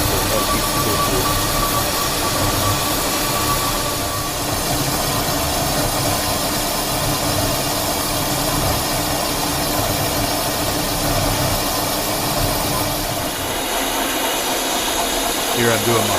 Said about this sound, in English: now what I'm doing is counterboring it for the area for the packing, the V packing